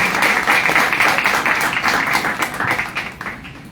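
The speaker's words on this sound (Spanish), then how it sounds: "Un aplauso para ti." An audience applauds a speaker at a law-teaching book presentation in Tapachula, Chiapas: dense, steady clapping from a room of people, loud at first and thinning out toward the end.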